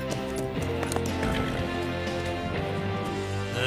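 Horse hooves clip-clop in a Lucky Luke cartoon set in the Old West, a steady run of light knocks heard under a continuous bed of music with no voices.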